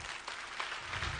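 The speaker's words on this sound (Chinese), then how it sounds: "所以我们给 Claudia 一个掌声" An audience at a Riway business gathering applauds for Claudia, a dense, even patter of many hands clapping at a moderate, slightly distant level.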